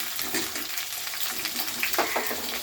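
Cauliflower, peas and potato tip into a hot wok and start frying, a steady bright sizzle with some stirring clatter, close and fairly loud, no talking.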